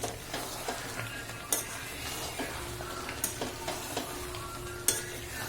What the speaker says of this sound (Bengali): এবার মশলাটা ভালো করে মিশিয়ে নিচ্ছি।